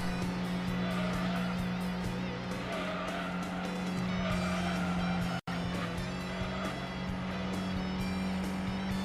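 A stock Mazda RX-7 racing in Gran Turismo 2, its engine droning steadily with a strong hum while tires squeal and skid through corners, loud and continuous apart from a brief cut partway through.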